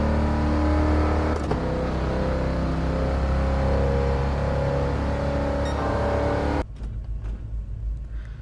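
A 1978 Pontiac Trans Am's engine in Gran Turismo Sport drones loud and steady with harmonic hum, changing pitch slightly, then drops off abruptly to a quieter, rougher idle near the end.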